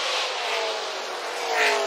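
ARCA stock cars race on the Illinois State Fairgrounds dirt mile track, a dense high engine roar from several cars at once, steady and loud with a slight swell near the end.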